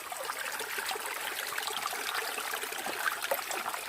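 Forest stream flowing over rocks in a steady, close, continuous wash of water with a soft bright trickle and no voices.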